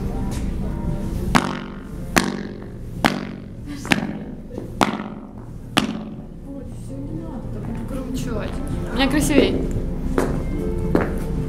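Sneaker footsteps echo under a domed ceiling, about six evenly spaced thuds with long reverberant tails. Then the steps give way to shuffling and a voice speaking near the end.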